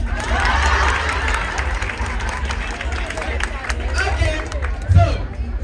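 Audience at a live event breaking into applause and cheering, a dense wash of clapping and crowd noise throughout, with a voice talking over it.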